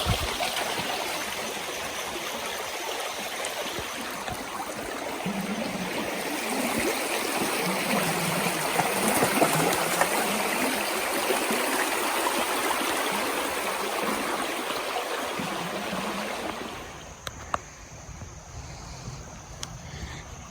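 Steady broadband rush of a mountain creek flowing continuously, fairly close, with a slight breeze; the water sound thins out near the end.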